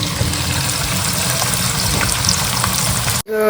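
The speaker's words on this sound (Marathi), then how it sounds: "कांदा एकदम मस्त फ्राय झालेला आहे" Sliced onions deep-frying in hot oil until crisp, for a prawn biryani garnish: a steady, loud, dense sizzle and crackle that stops abruptly near the end, with no talk.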